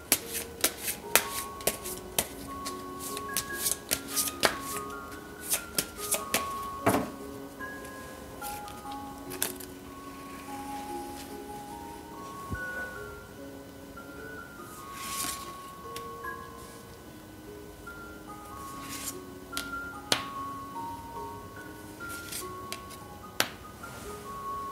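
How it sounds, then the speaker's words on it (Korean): Tarot cards are shuffled and drawn in a crisp run of riffles, taps and snaps, close and clear over soft, gentle background music, with no talking. "질문으로 한번 추가 카드를 뽑아보도록 할게요"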